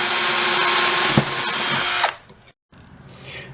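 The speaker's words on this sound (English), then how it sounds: "drill through on each side" A power drill bores through wood, a loud close whine that runs steadily for about two seconds before cutting off abruptly, followed by a short silence and faint handling noise.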